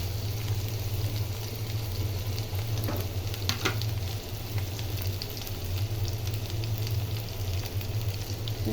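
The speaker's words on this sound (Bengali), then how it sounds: "তো পেঁয়াজটাকে এখন আমি ভালো করে ভেজে" Onions fry in a pan with a steady, moderate sizzle and occasional stirring taps over a constant low background hum, and no one speaks.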